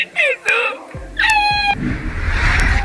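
A cat meows loudly in a few sharp, rising cries while monkeys grab its tail and sit on it, followed by scuffling and rustling noise.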